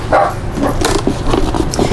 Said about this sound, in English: Forgive the dogs barking because they're going to bark.